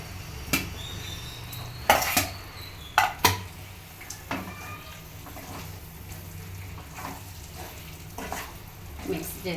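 Eggs sizzle and fry in a pan for egg curry, a steady sizzle under sharp clinks and scrapes of a utensil against the pan, several louder knocks early on, no one speaking.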